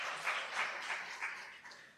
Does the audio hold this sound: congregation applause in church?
yes